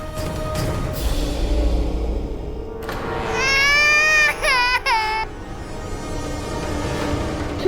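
An infant cries in loud, wavering wails that rise and break off, with background noise and a quieter stretch before the crying starts.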